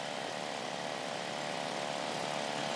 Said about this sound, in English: Aircraft just arrived.